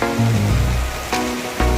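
Steady heavy morning rain in Dinahican, Infanta hisses loudly and continuously on surfaces close by, a dense wash of sound with no voices.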